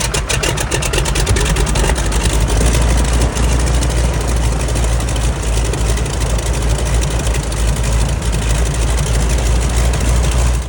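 The radial engine of a restored 1944 North American SNJ-4 trainer aircraft runs close by, giving a loud, steady, throbbing rumble with a dense pulsing roar and no pause.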